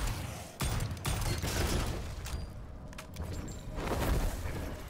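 Pistol gunfire in the video game Witchfire, a dense run of loud shots and impacts mixed with game effects and rumble throughout.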